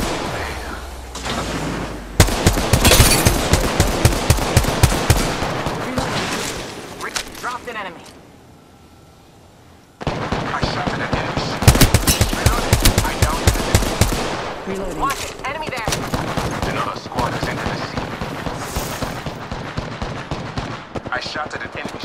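Automatic weapons fire in the battle royale shooter Apex Legends comes in loud, rapid, close bursts, with a brief quiet lull partway through before the shooting resumes, mixed with game voice callouts.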